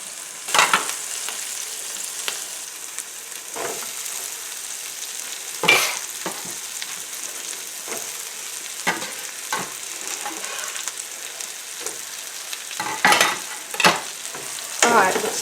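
Thin-sliced steak sizzles loudly with peppers in a pan for a Philly cheesesteak pizza, a steady broadband fry broken by repeated sharp stirring scrapes and bursts throughout, with no talking.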